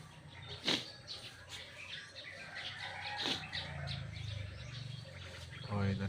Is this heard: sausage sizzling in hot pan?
no